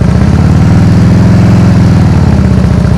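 A motorcycle engine lugs low and steady at slow riding speed without load, a loud continuous throbbing rumble close by with no talk over it.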